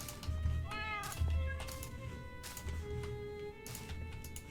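Several cats meow in Minecraft, short rising and falling mews recurring every second or so at moderate volume over a soft, rumbling game background, with no talking.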